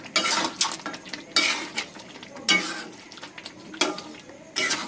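Spoon stirring Mughlai chicken curry in a pan, a scraping, sizzling sound in several distinct strokes with short pauses between, close and moderately loud with no talking.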